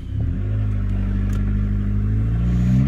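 A car drives along with a steady engine drone and low rumble from inside the cabin, the pitch rising slightly near the end as it picks up speed, with no talking.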